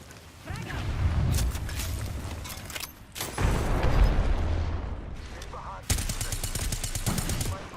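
In the Apex Legends video game, a frag grenade explodes with booming bursts amid rapid gunfire and mechanical clatter, loud and close, with sharp blasts cutting in partway through.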